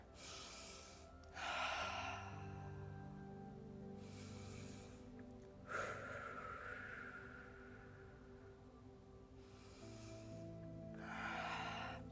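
Slow, deep breaths during a held yoga malasana squat: three or four long inhales and exhales, close and soft, spaced a few seconds apart over a quiet, low hum.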